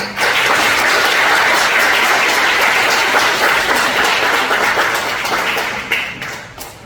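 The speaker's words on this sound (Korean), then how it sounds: "우리 나올 때 크게 박수로 우리 환영하도록 하겠습니다." Church congregation at a Korean Holiness church summer revival evening service gives loud, sustained applause in a large hall, dense clapping that holds steady for several seconds before thinning slightly at the end.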